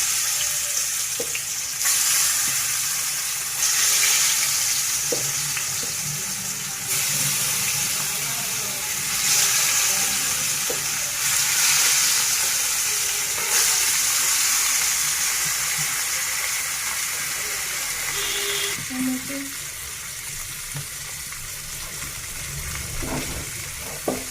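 Fish sizzling as it fries in hot oil in a pan, a steady loud crackling hiss that pulses and swells in waves over about twenty seconds, with small clinks of utensils near the end.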